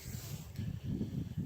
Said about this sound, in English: I'm going to spray out the carburetor. Start with the bowl.